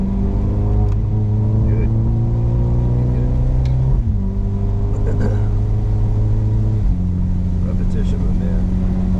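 A Mercedes SL45 pulls out of a corner on Harris Hill Road track, its engine note rising steadily with upshifts near four and seven seconds, loud and continuous beneath a coach's brief spoken instruction.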